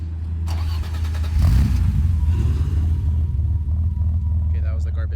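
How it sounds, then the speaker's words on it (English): A garbage truck passes nearby, its heavy diesel rumble swelling around the middle and holding steady to the end, loud and continuous, with a parked BMW E30 idling close by. "that was the garbage truck"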